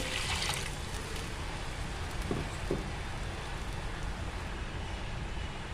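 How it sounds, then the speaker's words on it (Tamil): Water poured into a pot of tomato sambar with onions and ground paste, a steady broadband splashing stream running throughout at moderate level, with no talk. "இதுக்கு தேவையான அளவு தண்ணியும் ஊற்றிடலாம்"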